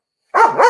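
A single loud, close dog bark starting about a third of a second in, with a second bark-like rise at the end and no other sound.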